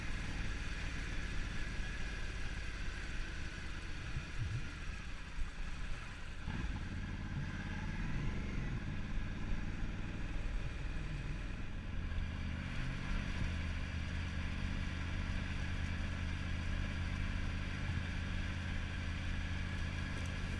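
Triumph Tiger 900 GT Pro motorcycle running on the road, a steady low engine drone mixed with wind rumble, fairly constant throughout with slight shifts in pitch.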